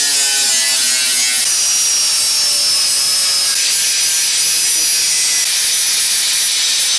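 A cutting tool bites steadily into the rusty steel rocker panel of a Mazda MX5, a loud, continuous high-pitched grinding whine that runs unbroken throughout.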